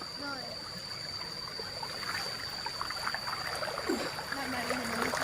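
A stream flows along its bank in the countryside on a rainy morning, a steady gurgling trickle with faint voices now and then.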